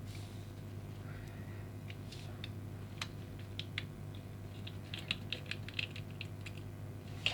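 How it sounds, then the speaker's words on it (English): A small screwdriver drives a screw into a Choro-Q toy car body, a Toyota Celsior / Lexus LS430 model. Quiet, close, irregular ticks and clicks come in short bursts over a faint steady hum, with no talking. "And screwdriver."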